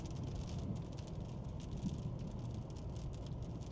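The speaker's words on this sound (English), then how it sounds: "instead of getting out because it's raining" Rain patters steadily on a car during a storm chase, a dense even hiss of drops on the roof and windshield, quiet and continuous with no voices.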